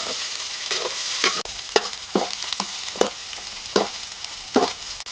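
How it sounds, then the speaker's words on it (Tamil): Chicken and chillies sautéed in a hot pan, with a steady sizzle under regular scraping stirs of a spatula, about one every second, close and clear. "இப்போ இது மாதிரி நல்லா வணக்கிக்கலாம்"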